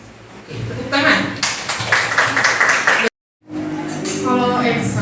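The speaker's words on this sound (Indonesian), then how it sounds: "Oke, tepuk tangan." A class claps together in applause, a steady close patter of many hands that is cut off abruptly and then resumes, with a voice speaking underneath.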